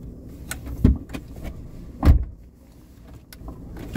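A car door shuts twice in quick succession, two short, solid thuds close by against a faint background hum.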